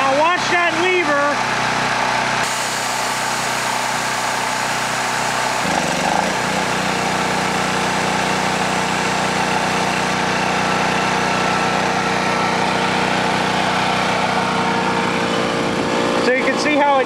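Small gasoline engine running steadily under load while driving an air compressor, a continuous near mechanical drone with a brief shift in pitch, and a person talking over it at times.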